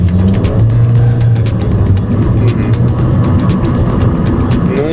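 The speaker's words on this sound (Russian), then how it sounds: "можешь, как-то, если не сложно, чутка газу дать" A used car's engine revs up as the throttle is opened, the roar loud, close and sustained for several seconds with no talking over it.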